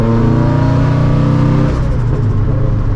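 Loud, close rumble of a 2013 Scion FR-S with a Greddy T518Z turbo and straight pipe, heard from inside as the engine pulls and revs in a dense, continuous roar with shifting tone.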